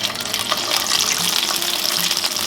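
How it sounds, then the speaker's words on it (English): Tomatoes blister in a very hot oiled pan for a garden pesto pasta, giving a loud, steady hiss of sizzling that fills the whole stretch without a break. "I'm just going to blister the tomatoes here"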